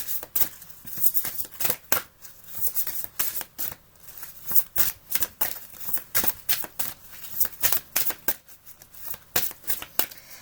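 Playing cards are shuffled and drawn in a rapid series of crisp riffling flicks and slaps, close and fairly quiet, coming in irregular bursts with short pauses between them.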